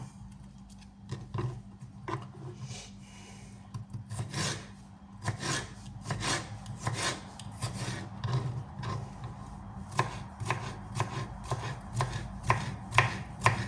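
A knife chops an unpeeled fresh cucumber for salad on a board, making irregular bursts of crisp cuts, some in quick runs, at close range with quiet gaps between.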